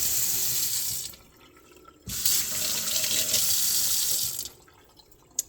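Tap water gushes into a kitchen sink while a jar is rinsed out. The stream is loud and close, briefly muffled as the jar fills, then pours freely again.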